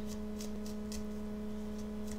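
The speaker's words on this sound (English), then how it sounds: "So I'm shuffling the cards" Tarot cards shuffled by hand, a series of soft rhythmic riffling bursts over a steady electrical hum, close and quiet.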